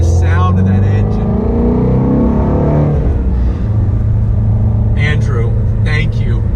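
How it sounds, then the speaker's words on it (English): A Ford Shelby GT350 running in sport mode with its exhausts open gives a deep, steady engine rumble close by, heard under someone talking throughout. "The exhausts are open. Sounds wonderful. Just rolling out, very, very simple to operate. Just, my God, the sound of that engine."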